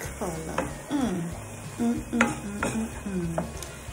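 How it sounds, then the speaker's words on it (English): Fried rice with carrot and peas being stirred in a hot pan, a steady sizzle under repeated scraping strokes of a utensil against the metal, close and fairly loud, with no talking. "Give it a good stir to have it all fully combined together."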